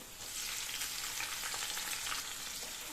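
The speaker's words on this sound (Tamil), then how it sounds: "சோம்பு நல்லா பொரிஞ்சிருச்சு அடுத்தது ஒரு பெரிய வெங்காயம் கட் பண்ணியிருக்கேன் அதையும் சேர்த்துக்கலாம்" Fennel seeds and chopped onion frying in hot oil for a homemade rice dish, a steady close crackling sizzle with faint stirring, no voices.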